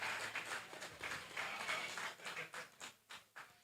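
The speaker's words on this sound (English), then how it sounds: "A big round of applause for Cosmas again" Audience at a victory party clapping, a faint, distant patter of many hands that thins into separate claps toward the end.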